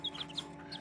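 Several short, faint, high chirps come from a young pheasant-chicken (kkwong-dak) chick kept alongside Serama bantam chicks, over a low, steady indoor hum.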